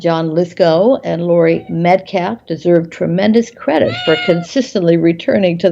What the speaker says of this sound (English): you might hear a cat meowing there